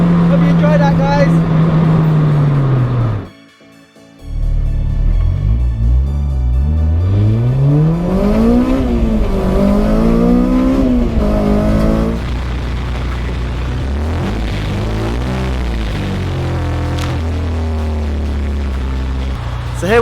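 A K20-swapped Honda Integra Type R DC2 revs hard into VTEC, the engine note climbing and falling through several loud sweeping pulls. A short drop to near silence comes early, and the engine keeps droning at lower pitch afterward. It echoes as if in a tunnel.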